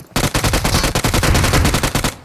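Rapid automatic gunfire in PUBG Mobile, a loud, steady burst of closely spaced shots running unbroken for about two seconds before cutting off, with no voices over it.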